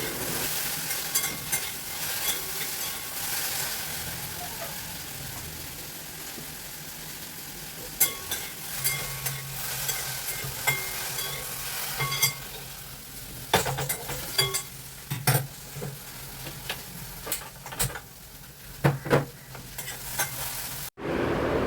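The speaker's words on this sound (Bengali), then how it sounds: "ঢেঁড়স ভাজাটা শুকনো লঙ্কা দিয়ে এদিকে চাপালাম" Okra frying in a pan with dried red chillies on a gas stove, a continuous close sizzle with scraping stirs and clinks growing busier toward the end, no voices.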